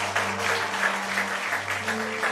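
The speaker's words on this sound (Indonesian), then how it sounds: "Berikan tepuk tangan sekali lagi." Applause from a congregation at a church anniversary service, steady and dense, holding at an even level for a couple of seconds over a low sustained tone.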